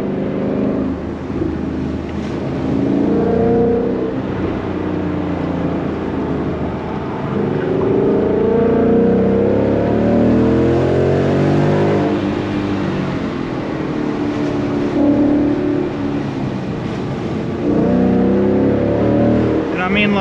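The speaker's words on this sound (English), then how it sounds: "this Mustang is surprisingly easy for me to just push" A Ford Mustang S550 driven hard on the Tail of the Dragon mountain road; its engine drones steadily throughout, rising and easing with the throttle, while a person talks continuously over it.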